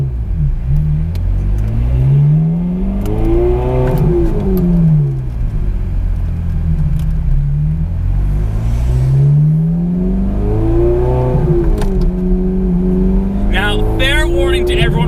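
Ferrari F430 Scuderia with a 6-speed manual conversion, its engine revving loudly while driving, pitch sweeping up and down through repeated gear-driven rises and falls, heard from inside the car.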